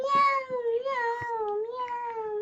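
A voice imitates a cat, drawing out a long wavering meow close to the listener for a couple of seconds.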